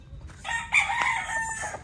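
Fighting rooster crowing once at close range, a single drawn-out, strained call rising and wavering for about a second, with faint background noise and no talk.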